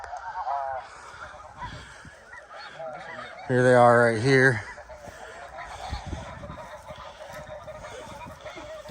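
Snow geese honking during a spring conservation hunt, a loud burst of overlapping honks mid-clip with scattered calls before and after, while someone talks nearby.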